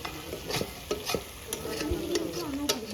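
Chicken kosha being stirred and dry-fried in a pan for a home-cooked family dinner, with a steady soft sizzle under repeated scraping and clinking strokes of a spatula, close by with no talking.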